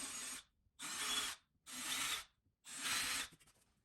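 Short 7/16 lag bolts with washers are driven in to hold a whole-house water filter bracket, heard as four close, faint ratcheting strokes of about half a second each, separated by brief pauses.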